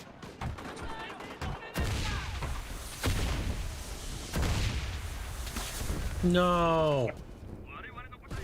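Mortar shells from the video game Mixers: Legends of Terrestria land as a series of heavy, booming blasts spread across the clip, with a player talking between and over the impacts.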